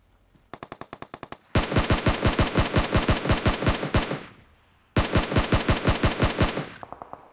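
Automatic gunfire in PUBG Mobile on the Erangel map: a short, quieter burst, then a loud, rapid machine-gun volley of about two and a half seconds, a pause, another long burst and a brief trailing spatter.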